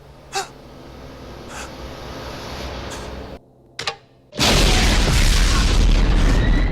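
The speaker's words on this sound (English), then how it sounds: "there's a big explosion" A sudden loud, roaring explosion in the 1991 film Terminator 2: Judgment Day erupts after a quiet stretch with faint thuds, then sustains as a dense, rumbling wash of noise.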